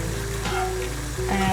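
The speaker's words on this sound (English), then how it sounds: "The water is boiling." Water boils hard in a pot on medium-high heat, ready for steaming Polish yeast buns. A close, steady bubbling and sizzling hiss runs on without pause, and nobody speaks.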